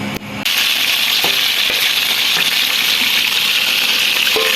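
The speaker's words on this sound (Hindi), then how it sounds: "अच्छा जी, हमारा ये अब ऑयल गर्म हो गया है, हम अपनी चिकन इसमें डाल लेते हैं" Chicken pieces hit hot oil in a kadai and set off a loud, steady sizzle that runs unbroken after a brief quieter start, with a few faint clinks underneath.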